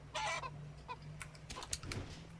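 Chickens in the video game 7 Days to Die cluck in scattered short bursts against a steady low electronic hum, with a few sharper clicks mixed in.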